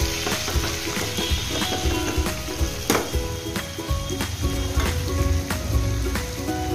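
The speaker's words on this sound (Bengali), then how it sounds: "টমেটোগুলো একটু বেশ ভাজা ভাজা হোক, নরম হয়ে আসুক" Tomatoes sizzle steadily while frying in a pan for Kashmiri aloo dum, a continuous close crackle with scattered sharp spatters and the occasional clink of stirring, no voices.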